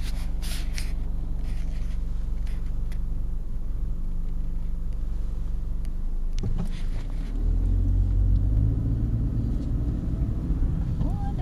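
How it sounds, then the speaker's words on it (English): A car pulls up nearby and settles into a low idling rumble over the last few seconds, following a stretch of steady background hiss and light handling noise. "Just turned the camera on to film the thing and the car pulls up."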